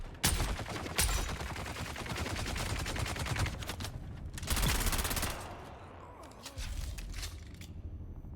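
Rapid machine gun fire in the video game Rise of Gaarad'dib, dense sustained bursts with sharp cracks, loud and close, pausing briefly before another heavy volley.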